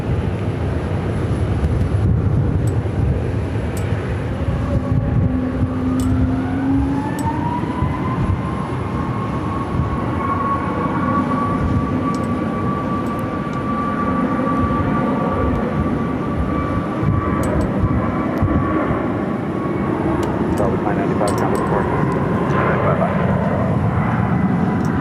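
Jet airliner on runway 25 right at Phoenix Sky Harbor, a steady loud engine roar with a rising and shifting whine throughout, close and continuous, with radio chatter faintly underneath.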